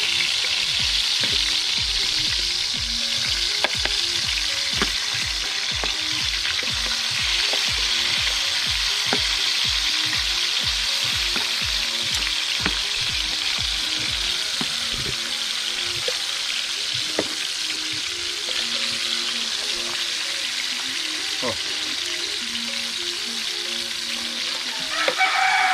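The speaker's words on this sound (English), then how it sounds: "I want some fry the crayfish then" Crayfish sizzle and fry with hot pepper in a pan, a steady dense crackle running throughout, with rhythmic low knocks in the first half like stirring or a rooster-like background call faintly present.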